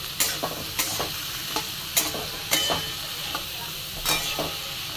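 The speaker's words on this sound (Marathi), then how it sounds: "त्याच्यानंतर टाकलाय भोपळा आणि परतून घेणार आहे बघा छान" Pumpkin pieces sauté in a hot pan with a steady sizzle and frying hiss, while a spoon scrapes and stirs in regular clacks about every half second, close and alone without talk.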